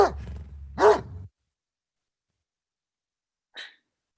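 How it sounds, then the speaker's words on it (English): A dog sound effect in a live theatre play: two quick barks close together at the start, then silence and one faint, short yap a few seconds later. "You didn't hear a dog barking?"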